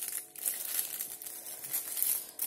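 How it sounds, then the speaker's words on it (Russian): A plastic baking bag crinkles and rustles close up, a continuous crisp crackling that swells and fades as it is handled, with no talk. "Взяла пакет для запекания и нарезала квадратиков и завязала, чтобы они не высыхали."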